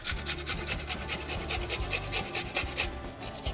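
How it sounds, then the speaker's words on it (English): A carrot scraped against a cheese box grater in a kitchen, a steady run of rhythmic rasping strokes, close and fairly loud, repeating about every quarter second with no talking. "then we're going to just take our cheese box grater"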